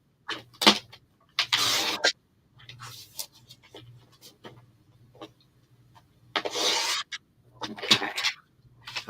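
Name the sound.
cutting paper into long strips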